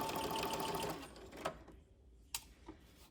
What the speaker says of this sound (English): start your forward stitch, and then you can back stitch to the edge, and that'll help avoid getting that fabric sucked down into the machine.